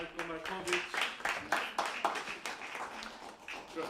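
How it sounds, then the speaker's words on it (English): An audience at a documentary and short film festival applauds a prize winner with a burst of scattered, moderately faint clapping, mixed with crowd murmur. "Applause for Lazics."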